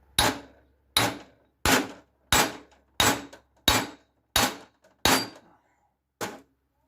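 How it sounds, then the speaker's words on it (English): A hammer strikes a metal pipe during synchromesh repair on a Peugeot 404/504 BA7 four-speed gearbox, with nine sharp, evenly spaced blows ringing out close and loud, then a short pause before the last one. "And I hammer on the pipe."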